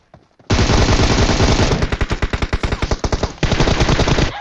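Loud, close automatic gunfire in PUBG knocks down an enemy: a dense burst that breaks into rapid individual shots, then another sustained burst.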